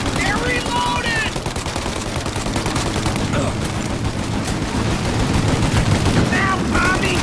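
Sustained gunfire in Mafia Definitive Edition during a shootout, rapid machine-gun bursts and rifle shots hammering almost without pause, loud and close, with shouted voices and game ambience underneath.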